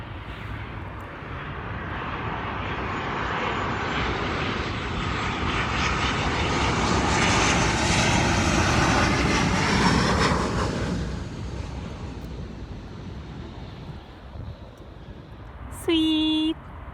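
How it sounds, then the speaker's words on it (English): An airplane passes overhead, its engine roar swelling from a distant rumble to a loud peak around the middle and then slowly fading away, with a brief voice near the end. "Oh, airplane!"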